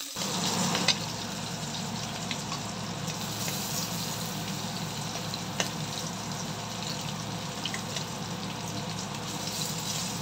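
Eggplant slices frying in oil in a home kitchen, a steady soft sizzle and crackle holding at an even level throughout with no talk.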